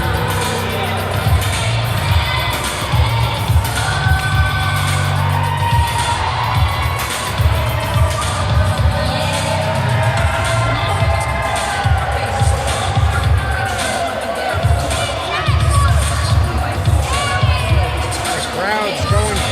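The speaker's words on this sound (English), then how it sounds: "And the crowd is going nuts" A professional wrestling crowd at a New Age Wrestling event cheers and roars steadily in a loud, packed venue, with a commentator talking over the din throughout.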